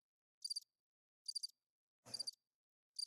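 Crickets chirp in short, evenly spaced bursts of rapid trills, clean and isolated against silence, one burst carrying a brief low rustle beneath it.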